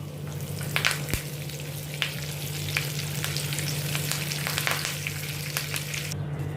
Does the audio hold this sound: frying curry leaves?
yes